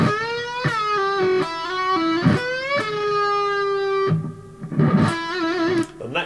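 Electric guitar lick played with distortion, featuring a snag bend rolled back onto the string, a release, and wide vibrato, sustained sliding notes with a few picked attacks, loud and close with no talking.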